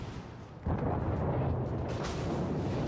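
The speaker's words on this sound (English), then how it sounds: "All gun crews, reload your guns for high explosive. Fire!" A warship's main guns firing high-explosive shells in World of Warships, a sudden deep booming blast that rolls into a sustained loud rumble and roar with a second crack of fire following.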